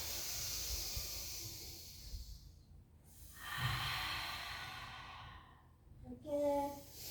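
A person draws slow, audible breaths during a Pilates plank exercise: long airy inhales and exhales, close and soft, separated by short quiet pauses, with no talking.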